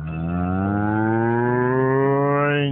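A cow gives a single long, loud, sustained moo that holds steady and cuts off abruptly at the end, with no other sound around it.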